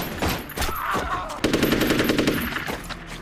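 Machine gun fire in a war film battle scene, rapid bursts of loud automatic shots with a sustained rattling volley near the end, close and dominant.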